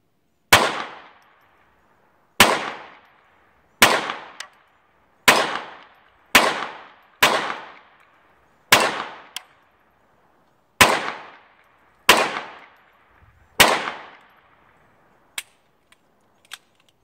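Gunshots at an outdoor shooting range, about a dozen sharp, loud reports fired singly at uneven intervals, each with a short decaying echo, ending with a few fainter clicks.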